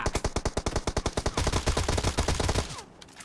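Rapid automatic gunfire rings out in PUBG Mobile during a single-shot mode challenge, starting as sharp, evenly spaced shots and then turning into a denser, heavier burst before it stops abruptly, loud and close.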